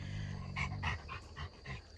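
Dogs close by in a Tennessee home garden give a series of soft whimpers and low growl-like sounds in a rhythmic run of short pulses, faint and with no speech.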